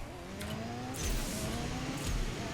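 Car engines rev and accelerate in the racing video game CSR2, a sustained mid-level engine drone that climbs in pitch twice, with no talking.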